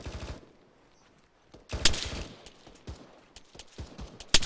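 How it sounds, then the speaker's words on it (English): Gunfire during a military video game mission, bursts of automatic shots and single cracks, some loud and near, others more distant, spread irregularly after a short quiet gap. "Shots coming in west"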